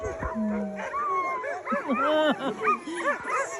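Iditarod sled dogs at a kennel barking, yipping and howling in an excited overlapping chorus, close and loud, with people talking in the background.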